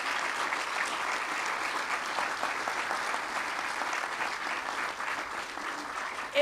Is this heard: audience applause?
yes